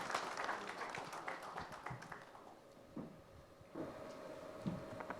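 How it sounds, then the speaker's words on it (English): Audience applause at an automotive workshop panel event, clapping strongly at first then thinning out into scattered faint claps and small knocks. "Please give yourselves a very big round of applause."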